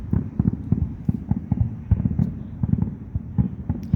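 Backyard fireworks go off in a dense, continuous crackle of muffled pops and bangs, heard at a moderate distance with no voices over them.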